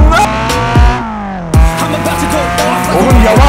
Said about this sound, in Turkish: Bağırtma şu arabayı ya.